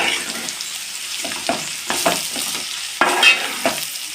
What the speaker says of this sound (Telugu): ఇప్పుడు మనం దంచి పెట్టుకుని ఈ పొడి వేసేసుకుందాం దాంట్లో ఒకసారి బాగా కలిపేసుకుందాం